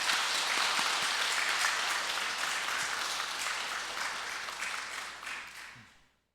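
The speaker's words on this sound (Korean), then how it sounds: "감사의 박수 한번 드릴까요?" A church congregation at a Korean family revival worship service applauds in thanks, a dense, steady wash of clapping that holds for several seconds, then tapers and cuts off near the end.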